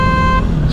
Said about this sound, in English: Okay, you guys want to hear the horn?